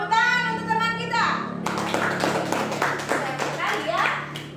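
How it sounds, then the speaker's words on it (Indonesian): Classroom children clap briefly after a teacher's voice, a burst of scattered hand claps with children's voices chattering over them, fairly close and lively. "Tepuk tangan untuk teman kita."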